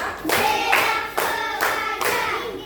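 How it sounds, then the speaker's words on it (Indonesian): Schoolchildren in a classroom clap together in short, loud bursts, grouped into an even, chanted clapping routine that repeats several times in quick succession, with no talking over it. "Tepuk 1, tepuk 2, tepuk 3, tepuk 4,"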